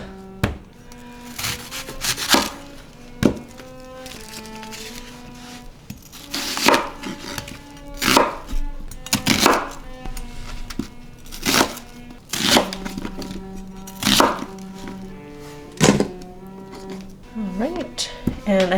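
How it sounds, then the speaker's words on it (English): A knife chops a large onion into big chunks on a board, striking in irregular sharp knocks with scraping between them, close and clear, while a person talks over the cutting. "I'm going to cut up my onion first"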